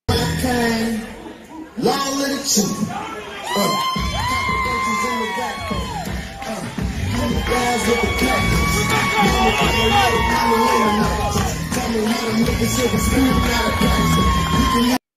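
A wrestling crowd at an independent show cheers, whoops and yells loudly for a wrestler's entrance, a dense roar of voices over entrance music with sustained tones, with a brief lull near the start.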